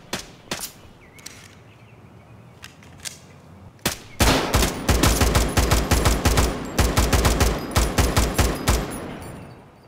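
Gunfire in the shooter game Escape From Tarkov: a few isolated shots, then a dense stretch of rapid automatic bursts, loud and close, with brief gaps between volleys.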